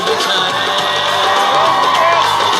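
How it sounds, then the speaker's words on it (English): Large college fest crowd cheering, whooping and yelling loudly and continuously, a dense wall of shouts from many young voices at a Bollywood star appearance. "So please give them a huge round of applause."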